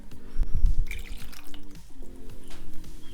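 Warm water poured for yeast dough for an Easter paska, a short splashing trickle into a bowl in a quiet kitchen, alone without talk.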